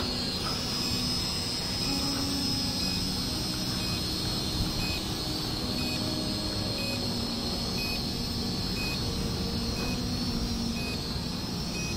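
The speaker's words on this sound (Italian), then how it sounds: "vediamo se il drone ci segue." S-Series S30W budget drone with dual GPS and gimbal flying in follow-me mode, its steady high-pitched motor whine droning loud and continuous throughout with faint beeps, no talk.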